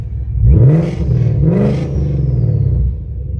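Deep exhaust rumble of an ESS supercharged Mustang with a valved exhaust opened up, a low throbbing drone that swells in two revs and then settles into a steady idle-like burble, recorded close, no talk.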